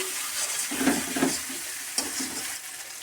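Cumin, chili and dried red chili paste frying together in a pan, a steady close sizzle with a couple of soft stirring scrapes and a brief clink partway through.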